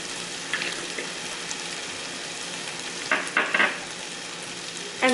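Turmeric and cumin frying in a pan, a steady sizzle with a few brief scraping stirs near the end.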